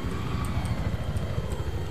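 An attack helicopter in Battlefield 3 gameplay flies with a steady, loud rotor and engine roar that fills the whole stretch without letup.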